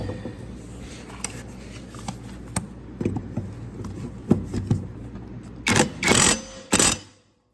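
An impact wrench tightening a new mower blade onto the spindle of a 54-inch Cub Cadet Ultima ZT1 zero-turn, three loud close bursts near the end after quieter clicks and handling noises.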